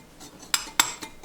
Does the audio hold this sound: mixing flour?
yes